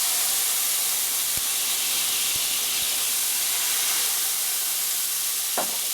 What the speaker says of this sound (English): add the cognac